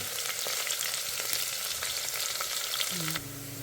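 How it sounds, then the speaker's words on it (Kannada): Curry leaves and onions fry in hot oil for palav, a loud dense crackling sizzle held steady throughout, with a brief low hum near the end and no talk. "ಇದ್ರ ಜೊತೆಗೆ ಕರ್ಬೇವಿನ ಸೊಪ್ಪು ಕೂಡ ಹಾಕ್ಕೊಳ್ತಾ ಇದ್ದೀನಿ. ಸ್ವಲ್ಪ ಫ್ರೈ ಆಗಲಿ."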